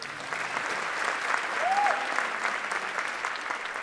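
Concert audience applause at an outdoor sunset concert by a band at a Black Ship Festival, steady clapping from a large crowd with a faint whistle rising briefly midway.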